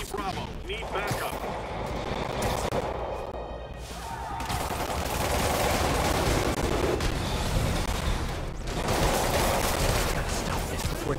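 Dense, continuous gunfire from the Spider-Man Remastered video game, with demons attacking a checkpoint in Chelsea, forms a loud, sustained wall of rapid shots and bursts that swells midway, with voices mixed in.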